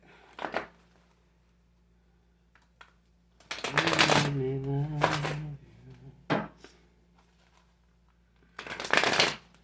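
A tarot card deck being shuffled at close range in a few quick riffling bursts, the longest lasting a couple of seconds, with a person talking softly during the middle burst.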